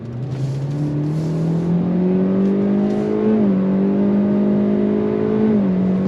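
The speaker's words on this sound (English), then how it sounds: "So you got your simulated shifts. That's going to keep that engine drone down." A 2025 Kia K4 GT-Line with the non-turbo engine accelerates under throttle, its engine note climbing steadily with a couple of simulated shift dips, a droning, moderately loud cabin sound without talk.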